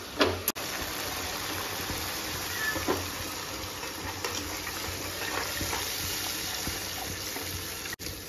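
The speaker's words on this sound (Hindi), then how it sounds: "फिर हम इसमें करने वाले पानी ऐड करने वाले हैं" Water pours into a pan of chicken manchurian sauce with soy sauce, a steady wet rushing and sizzling wash that holds for several seconds at close range, with a couple of brief clanks.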